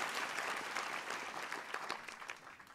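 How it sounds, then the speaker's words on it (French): A crowd applauds the young jury team at the closing ceremony of the Saint-Jean-de-Luz International Film Festival. The clapping is dense and steady, then thins slightly toward the end. "vous pouvez tous les applaudir"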